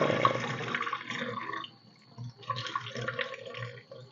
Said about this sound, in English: I pour water